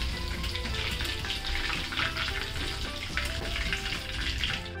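Chicken lollipops deep-frying in hot oil give a steady, dense bubbling sizzle that runs unbroken and close, with no voices over it.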